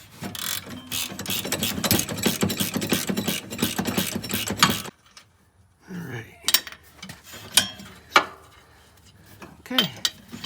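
A ratchet clicks rapidly and continuously for about five seconds, loosening the frame-mounted caliper nut on a 2005-2009 Polaris Ranger 500. Scattered metallic clanks and handling knocks follow.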